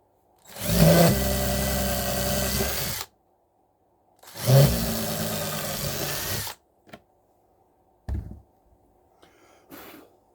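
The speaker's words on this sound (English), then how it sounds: "when you drill your holes" A power drill runs in two sustained bursts of about two seconds each, drilling holes for O gauge model railway track, separated by silence, followed by a few short clicks and a brief trigger tap.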